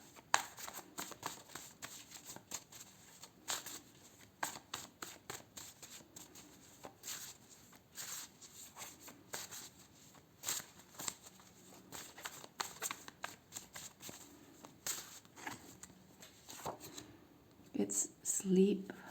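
Tarot cards are shuffled and pulled in a quiet room, giving a steady stream of soft, close riffles and flicks, with a voice speaking at times.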